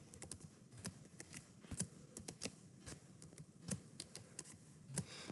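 Rapid, quiet clicking of computer keyboard keys as values are typed in, irregular taps continuing steadily throughout.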